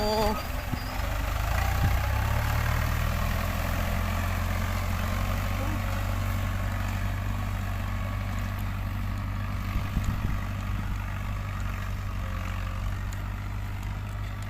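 A farm tractor engine drones steadily at low pitch in a sugarcane field, a continuous heavy rumble that holds nearly unchanged from start to finish.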